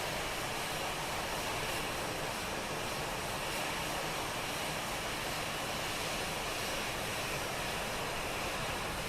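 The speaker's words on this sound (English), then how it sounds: "today we're flying the CFM engines" Airbus A319 CFM jet engines in Microsoft Flight Simulator produce a steady, loud, even roar that holds unchanged throughout with no voices.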